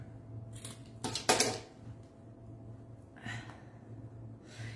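A couple of quick, crisp snips of scissors cutting wreath-making material, close and fairly faint over a quiet room hum, with soft handling rustles around them.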